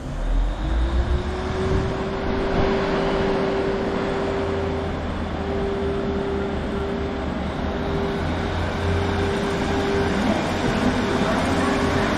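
A Class 156 diesel unit pulls out of Bolton station with a steady engine drone and a rising tone held for several seconds, fairly loud and continuous under platform ambience.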